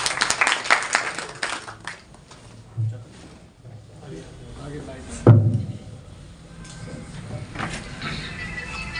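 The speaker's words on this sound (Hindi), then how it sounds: "एक बार जोरदार तालियां" Brief burst of clapping from an audience at a Guru Ravidas Jayanti gathering honoring a member of parliament, loud at the start and then fading under ongoing speech and room noise.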